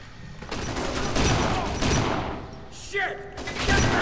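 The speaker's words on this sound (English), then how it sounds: "I have the OP shotgun." Rapid shotgun blasts and gunfire in the video game Kane and Lynch 2: Dog Days, dense bursts of booming shots with a brief shouted voice partway through.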